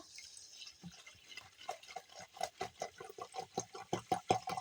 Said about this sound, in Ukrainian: грамів 300 газованої мінеральної води виливаю в ковшик, відправляю на плиту